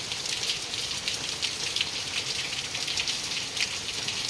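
Steady rain pours down outdoors, a dense, even hiss of drops on surfaces with occasional louder spatters, continuous and close with no voices.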